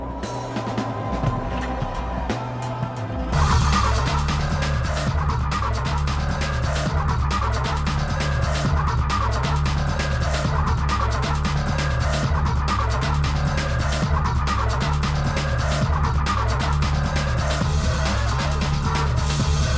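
Renault Sport Spider roadster driving through Paris streets, its engine note opening up abruptly after three seconds into a loud, steady mid-pitched drone with road rumble, heard from close by without talk.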